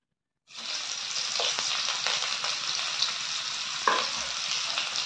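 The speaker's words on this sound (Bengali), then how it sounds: "পেঁয়াজটাকে একটু ভেজে নেব" Chopped onion hits hot oil and fries with a steady, bright sizzle that starts abruptly and holds evenly, broken by a few soft stirring clinks, close and alone without talk.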